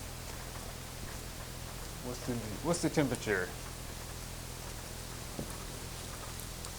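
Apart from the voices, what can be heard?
rain falling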